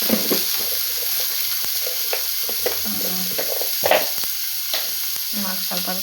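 Peeled cucumber fries in a pan with a constant crackling sizzle, broken up by scraping stirs and clinks of a spoon, with brief talk in the background.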